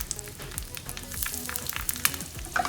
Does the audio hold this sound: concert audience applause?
no